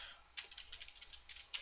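Fast typing on a computer keyboard, a quick irregular run of crisp key clicks starting after a brief pause, close and fairly quiet, with no voices.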